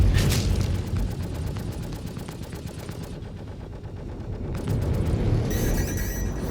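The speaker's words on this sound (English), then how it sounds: "Two incoming missiles." Incoming missiles exploding in the Star Citizen space combat game, a dense rapid barrage of impacts and crackling blasts that rumble continuously, then a brief lull and renewed volleys near the end.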